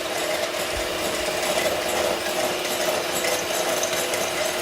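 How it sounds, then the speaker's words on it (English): An electric whisk beats egg whites for meringue at medium speed, producing a continuous whirring motor hum with a faint rattle in the bowl. The sound is steady and close, with no talking. "whisk your egg whites until they're foamy on a medium speed"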